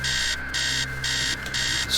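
An alarm rings in the video game Stories Untold, a loud electronic bell sounding in regular bursts of roughly a third of a second, four rings separated by short gaps over a faint steady hum.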